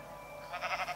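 A sheep in Minecraft bleats once near the end, short wavering cries over a quiet background hum.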